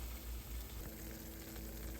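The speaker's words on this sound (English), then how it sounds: "Listen to that baby sizzle." Baked mac and cheese gives a soft, continuous crackling sizzle with fine popping, steady and close, with no voices.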